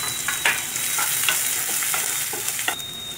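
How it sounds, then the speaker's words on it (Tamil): Chopped small onions sauté in hot oil with curry leaves, giving a steady close sizzle throughout. Short scraping taps from stirring sound over it, and no one speaks. "நெக்ஸ்ட்டு நறுக்குன சின்ன வெங்காயம் சேர்த்து வதக்கிக்கோங்க."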